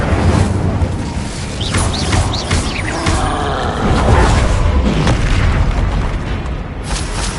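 The Incendio fire spell is cast in the Hogwarts Legacy video game, producing loud, continuous booming blasts and crackling fire that roar without pause.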